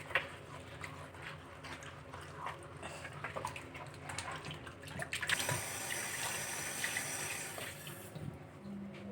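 Tap water runs steadily into a sink while beef pieces for pho are rinsed to wash away fat, with light clinks and handling noises throughout and a brighter, louder gush of water in the second half.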